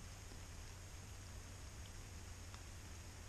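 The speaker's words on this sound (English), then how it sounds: "obviously raining." Rain falls steadily in the woods as an even, dense hiss with a low rumble underneath, faint and unbroken throughout.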